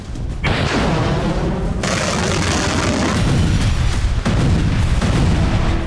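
An Iranian missile strikes a target 30 km away during a missile test, giving a loud, continuous roar of blast noise with several sharp booming bursts breaking through.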